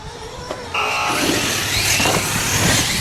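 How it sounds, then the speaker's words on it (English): Radio-controlled monster trucks launch at the start of an elimination race, a steady loud whine of small electric motors rising and sustained, close by with no talk. "Good start for both trucks."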